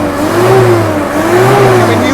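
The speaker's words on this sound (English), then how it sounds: "I mean, you can hear all that horsepower." A Mercedes 123 engine revs in two steady rising-and-falling swells, loud and close, with broadband noise over a continuous low drone.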